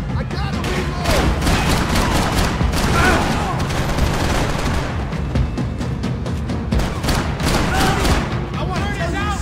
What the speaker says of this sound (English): Fire, boys!